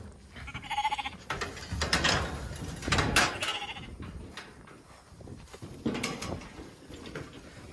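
Sheep bleat repeatedly in a pen during herding work, several calls rising over outdoor noise and clanking gate sounds, moderately near, with no speech.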